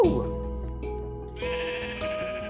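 A sheep in the video game Minecraft gives a clear, close bleat, followed by a second bleat, with game sounds and a voice underneath.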